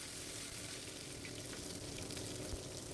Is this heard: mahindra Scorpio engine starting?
no